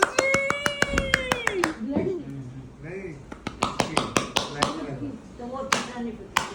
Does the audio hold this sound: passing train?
no